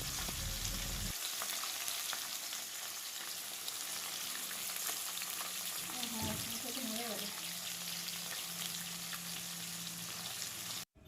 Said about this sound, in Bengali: মাছগুলো আগে মুচমুচে করে ভেজে নিই